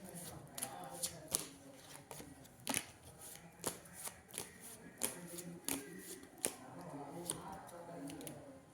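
Tarot cards riffled and shuffled by hand during an astrology reading, giving a close, steady run of papery flicks and sharp slaps over about nine seconds.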